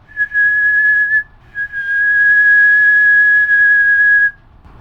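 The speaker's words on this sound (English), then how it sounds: "I find whistling at it sometimes helps." A person whistles steady, sustained tones at a board's sound sensor, close and fairly loud, in two long held notes separated by a short pause, with no talking.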